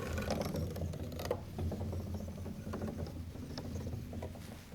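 Hands scraping and rubbing along the strings inside a piano at different spots, giving a continuous dense rustling and scratchy texture with small clicks, close and fairly loud, with no voices.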